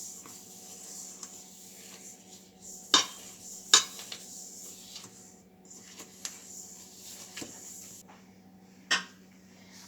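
Spatula working gingerbread batter in a mixing bowl, soft scraping and stirring with a few sharp clinks against the bowl, close and quiet, with no talking.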